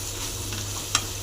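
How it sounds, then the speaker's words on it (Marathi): Onion-garlic masala with coriander, turmeric and salt being stirred in a pan for egg masala, a soft steady sizzle with light scraping and one brief louder clink near the end, no voices. "त्याच्यामध्ये आता हे आपल्याला चांगलं हलवून घ्यायचं आहे."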